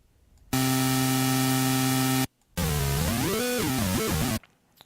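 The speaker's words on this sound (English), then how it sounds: "Actually, I think I'll put one into white noise." A white noise oscillator in FL Studio sounds as a loud, steady synthetic tone for about two seconds, then cuts out and returns as a second burst whose pitch glides and wobbles up and down, with no voices.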